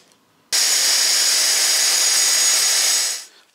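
A power tool cuts through aluminium sheet for a race seat, starting abruptly and then running as a loud, harsh, steady hiss before winding down after about three seconds.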